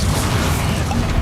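Bombarda blasting spell explosions in Hogwarts Legacy, a loud, dense, rumbling burst of low booms and crashing debris that fills the whole stretch with no pause.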